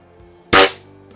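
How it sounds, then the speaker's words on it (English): Single sharp report of a Quackenbush Model 5 combination rifle firing a pellet across a garage, a loud close crack with a short decaying tail over quiet room tone. "Let me shoot across the garage here and see if I can hit anything."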